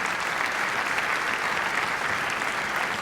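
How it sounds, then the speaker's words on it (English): A New York gala audience breaks into a big, sustained burst of clapping, dense and even from start to finish, with no voices standing out. "You just got a huge burst of applause from this New York audience."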